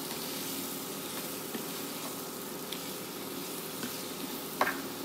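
Instant mango pickle with brown sugar and spices cooking in a pan, a soft steady sizzle with light stirring scrapes and an occasional clink.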